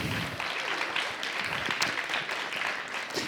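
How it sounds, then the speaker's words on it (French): A conference audience applauds after a talk, a steady, moderately loud patter of many hands clapping without pause. "Je pense qu'on peut l'applaudir"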